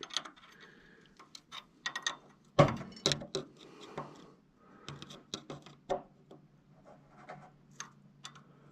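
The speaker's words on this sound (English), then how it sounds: "so I'll tighten this up this. Hold this still with the screwdriver" Work on an International 400 tractor with a screwdriver, close small metallic clicks, taps and ratcheting scrapes coming in short irregular bursts with a louder knock partway through.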